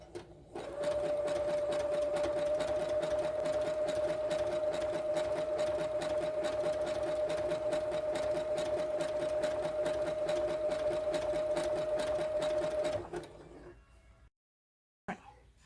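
An electric sewing machine stitches letters onto a graduation stole in one long, fast, even run with a steady motor whine, then slows and stops, followed by a brief quiet gap and a small clunk.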